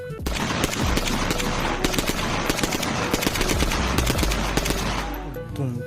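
Toy gun firing a rapid, continuous electronic burst of machine-gun-style shots for about five seconds, loud and close, with a brief pause before the rattle cuts off.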